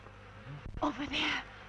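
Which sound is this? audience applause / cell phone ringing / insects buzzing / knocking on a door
insects buzzing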